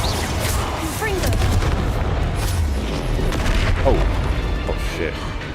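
Confringo fire spell explosions in Hogwarts Legacy combat, dense booming blasts and crashing impacts layered over continuous game noise, with a voice talking throughout.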